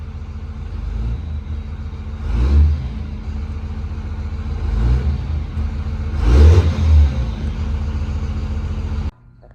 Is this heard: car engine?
yes